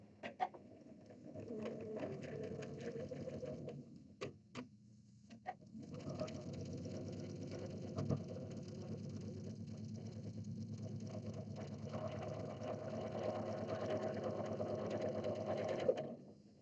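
A sewing machine stitching sashing onto a quilt block runs in long steady whirring bursts with a brief pause, close and even, with faint chirping birds in the background.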